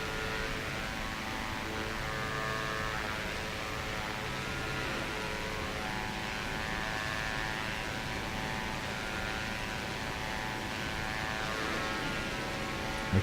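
The engine of a Diamond DA62 twin-engine plane in the X-Plane 11 flight simulator, a steady droning hum with a broadband airflow hiss that holds constant at moderate level throughout.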